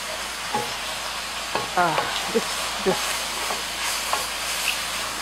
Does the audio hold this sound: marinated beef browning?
yes